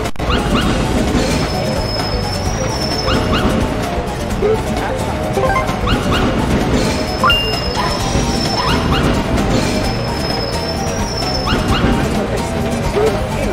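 A dog barks, yips and whimpers repeatedly at close range, in short bursts mixed with clattering noise, while people talk over it.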